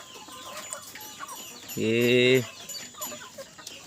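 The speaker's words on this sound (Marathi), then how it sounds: "कोंबडी" Backyard chickens of the Selam, Berad and Gavran breeds cluck and call in a short, loud burst close by, against a faint background of other farmyard noise, with a brief word spoken nearby.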